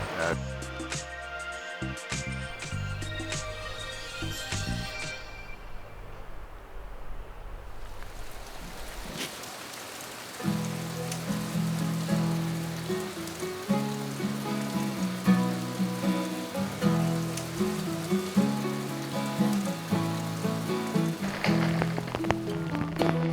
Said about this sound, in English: Raining pretty hard today.